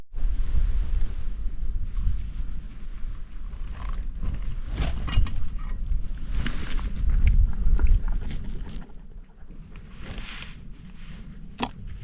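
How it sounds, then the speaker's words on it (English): Strong wind sweeps across a hillside campsite in the Lake District fells near Scafell Pike, a loud, rumbling roar with gusts that surge and ease over several seconds before dropping quieter. "It's a windy one for the last night, isn't it, Pablo?"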